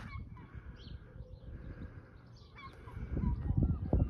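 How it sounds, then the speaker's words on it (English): Gulls calling along a path at a closed Pontins holiday camp in Prestatyn, a scatter of harsh cries and squawks over steady outdoor wind and footsteps, with louder bursts near the end. "Don't really disturb the seagulls, do they?"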